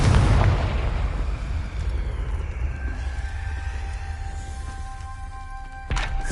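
A Confringo spell explodes in Hogwarts Legacy, a loud booming burst at the start that rumbles and fades into a low sustained roar, with a second sharp hit near the end.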